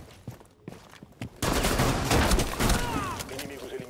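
Enemies open fire in the tactical shooter Rainbow Six Siege: after a few scattered footsteps, a loud dense barrage of overlapping gunshots and impacts erupts and continues close by, with a voice briefly audible.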